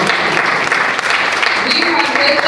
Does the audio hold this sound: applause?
yes